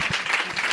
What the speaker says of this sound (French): Myriam, que vous pouvez applaudir